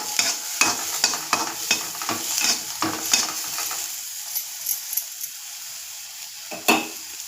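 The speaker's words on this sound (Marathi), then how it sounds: "पहिल्यांदा आपण कांदा भाजून घेऊया" Onion roasts in a pan on a gas stove, with a run of quick scraping and tapping stir strokes over a soft sizzle that then thins out to scattered clicks and one last knock, no talking.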